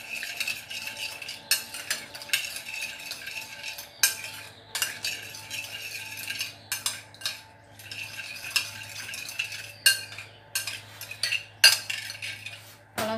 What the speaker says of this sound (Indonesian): lalu kita aduk-aduk supaya gula pasirnya larut